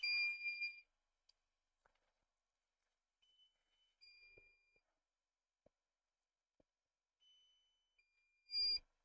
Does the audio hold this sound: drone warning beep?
yes